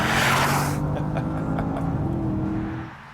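A 550-horsepower Porsche Panamera accelerates with a loud engine roar and broad rushing noise at first, the pitch climbing through gears before the sound fades away at the end.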